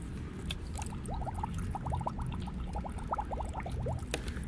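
Water filling an ordinary drinking bottle on a rooftop, a gurgling, rising run of bubbly liquid sounds over steady background rumble.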